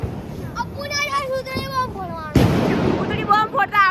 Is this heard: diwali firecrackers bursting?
yes